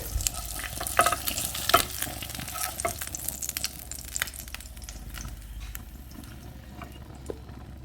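Sunny side up eggs fry in a pan with a steady, close crackling sizzle. Occasional light scrapes and pops break through, and the sizzle eases slightly toward the end.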